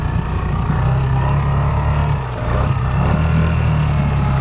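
A boat engine drones loudly and steadily at close range, its pitch shifting slightly as the throttle rises and eases, with water and engine noise blending into a continuous roar and no talk.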